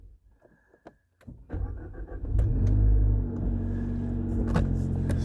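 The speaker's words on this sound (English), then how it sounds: "So let's start the engine." A Suzuki Swift Sport ZC33S with an HKS Hi-Power Spec-L 2 exhaust cold-starts after a few interior clicks, the engine catching with a loud crank and rising rumble, then settling into a steady deep idle close by.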